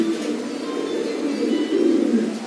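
A large Giribaz pigeon coos in a low, rolling burble that swells toward the end, heard up close with no talking.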